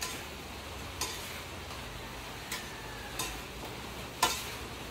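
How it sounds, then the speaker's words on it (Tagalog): Pinakbet vegetables are stirred in a frying pan over a low steady sizzle, with a few soft utensil scrapes and taps at scattered intervals, close and fairly quiet. "So syempre kailangan haluin natin."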